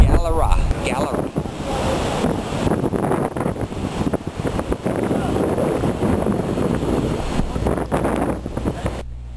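Big ocean waves crash and surge against sharp rocks at Galera Point, Trinidad, while strong wind buffets the microphone; a continuous, loud roar of surf and gusts.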